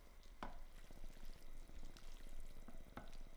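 Cajun prawns and egg noodles are stirred in a pan, with a soft continuous sizzle and a couple of sharp utensil scrapes against the pan, quiet and close with no voices.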